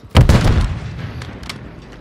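A stun grenade goes off in Call of Duty Warzone with a single sharp, loud bang that rings out and fades over about two seconds, followed by a few faint clicks.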